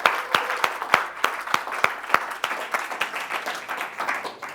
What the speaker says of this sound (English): So please give a massive round of applause to Ritchie Clapson, Property CEO.